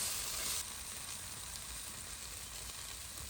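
Chopped green chillies frying in a pan for a Konkani gawar bean bhaji, a steady broadband sizzle with a brief louder burst at the start, then an even crackle with no talk.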